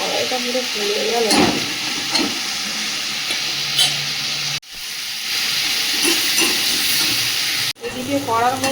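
Black cumin, tomato, chopped ginger and chopped onion sizzle and fry in a kadai as they are stirred, a steady loud hiss broken by scraping stirs and two brief cuts to silence.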